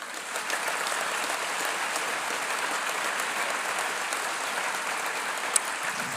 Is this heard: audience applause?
yes